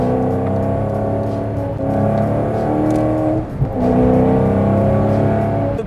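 A Maserati with an F1-style gearbox pulls hard, its engine note climbing in strong harmonics, then a quick gear-change thump before revs build again, loud and close from inside the car.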